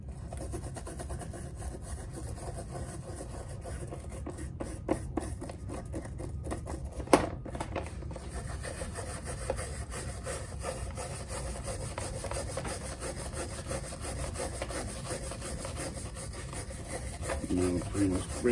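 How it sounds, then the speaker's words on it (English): A brass brush scrubbing stubborn dirt off an RTI Mannlicher 88/90 rifle, a loud, close, continuous rhythmic scraping with quick back-and-forth strokes and a sharp knock midway. "I got some stubborn dirt there, so I'll get the brass brush."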